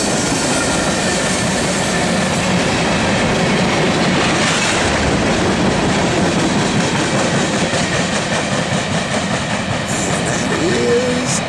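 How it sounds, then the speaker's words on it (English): A CSX freight train, Q697, led by an AC4400 and a Dash 8 locomotive, rolls steadily past on the Charlotte Subdivision, with continuous rail clatter and wheel noise throughout and a faint squeal near the end. "That AC 4400 and that dash 8 sounded pretty good coming up the hill."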